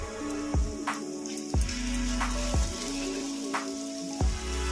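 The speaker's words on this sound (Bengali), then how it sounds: "এবারে দিয়ে দিচ্ছি রসুন বাটা।" Garlic paste for chicken biryani sizzles in a frying pan with a steady close hiss, broken by several regular thuds and scrapes of a spoon stirring.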